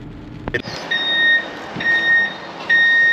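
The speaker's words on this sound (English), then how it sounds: "So I found a guy to help fork it off the truck" A forklift unloading a lathe from a truck sounds repeated high reversing beeps in a steady on-off pattern, fairly close, over a low engine rumble with a sharp knock near the start.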